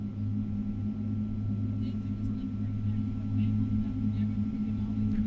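Boeing 777 jet engines idling after start in a PMDG flight simulator, a steady low droning hum with faint higher whine, continuous and fairly quiet throughout.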